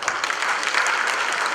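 A conference audience on the first day of SEARC V in Bali applauds steadily, a dense, even wash of many hands clapping with no voices over it.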